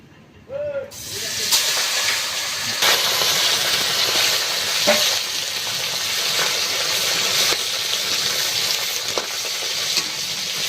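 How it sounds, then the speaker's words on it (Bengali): Pond fish dropped into hot oil for a Bengali fish curry, bursting into a loud, steady sizzle after a brief quiet start, with sharp spits and pops scattered through the continuous frying hiss. "তেলটা গরম হয়ে গিয়েছে এবার মাছগুলো দিয়ে দিচ্ছি"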